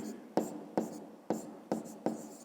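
Pen or pencil writing on paper while solving a fifth-grade maths exercise: five quick, sharp scratching strokes spaced evenly and heard close up in a quiet room.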